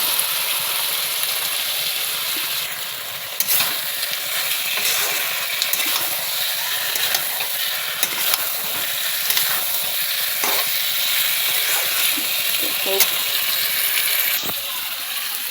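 Pointed gourd frying in thick gravy in a pan, a steady close hiss and sizzle running throughout, broken by occasional light clinks of stirring against the pan.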